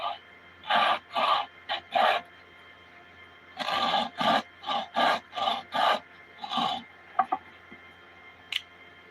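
Knife carving a series of notches to leave a thin sliver: repeated short rasping cuts in uneven bursts, close and fairly loud, pausing midway before another quick run of strokes, with no talking.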